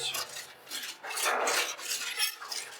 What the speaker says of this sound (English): We're just going to grab one of our spatulas and spread that oil around.